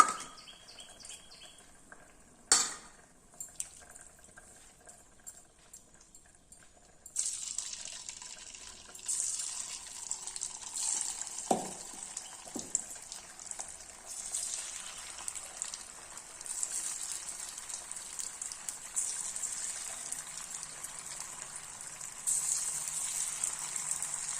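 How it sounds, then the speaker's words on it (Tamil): Cauliflower pieces frying in hot oil for a sambar tiffin meal: a few seconds of quiet kitchen handling and a clatter, then steady, bright sizzling and crackling that keeps going at moderate loudness to the end. "எல்லாத்தையும் போட்டேன். பொரியட்டும் பார்க்கலாம்."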